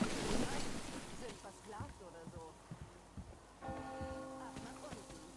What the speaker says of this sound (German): Hast du die Glocke gehört?